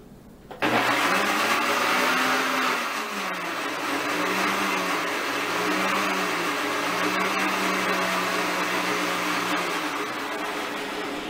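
A kitchen blender whirs up pineapple cookie batter for vegan cookies, starting with a sudden click and roar, then holding a loud, steady motor whine with slight pitch dips for several seconds.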